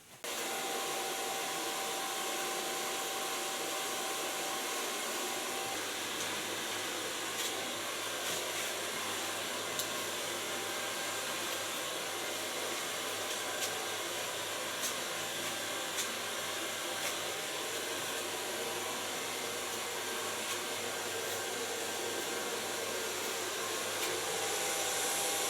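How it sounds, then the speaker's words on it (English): A Keonet blow dryer runs continuously while drying hair into a classic bob, a steady airy whoosh held at an even, moderate level with faint brushing ticks, and no talk. "blow drying a classic bob"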